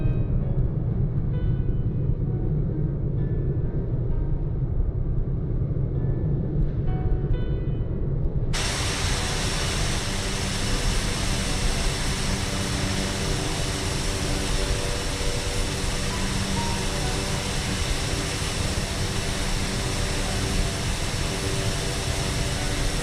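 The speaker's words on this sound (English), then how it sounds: "There goes another flyby view, but this time it's from the port side of the aircraft, the left hand side" An ATR 72-600 turboprop airliner in Microsoft Flight Simulator passes by from the left side, its steady engine and propeller roar filling the scene and growing brighter and fuller partway through, then holding loud and constant.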